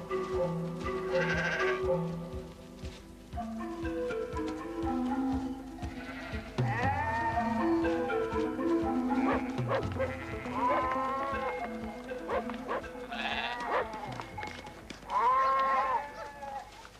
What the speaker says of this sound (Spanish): Las ovejas